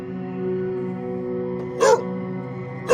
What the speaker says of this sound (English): I heard more barking